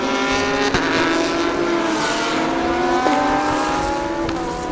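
GT3 and GTM class race cars lap the circuit during qualifying at the B-Quik Thailand Super Series, engines loud and continuous with rising and falling revs as cars pass, plus brief sharp shifts.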